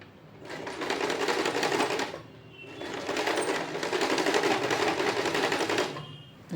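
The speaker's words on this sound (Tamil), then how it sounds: "ஸோ அதோட உள்ள லைனிங் மாதிரி இருக்கும்னு இப்போது இதில் தைச்சு பார்க்க போகிறேன்." A sewing machine stitches a lining into a handmade bag in two sustained, steady bursts of rapid, even stitching, separated by a short pause, close and fairly loud with no talk.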